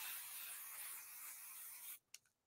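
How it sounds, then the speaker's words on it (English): Aerosol spray adhesive hissing onto the back of fabric batting for a sewn monster pillow, a close continuous spray for about two seconds, then a couple of short bursts. "And then I'm going to spray the back of this."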